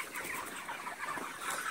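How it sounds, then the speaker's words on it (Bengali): Chickens in a long poultry farm of around 3500 birds give soft, overlapping clucks, a faint, dense murmur of fowl with no clear single call. "এদিকে অনেক মুরগি আছে।"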